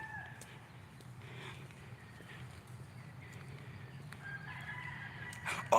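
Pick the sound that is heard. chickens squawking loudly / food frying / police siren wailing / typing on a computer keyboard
chickens squawking loudly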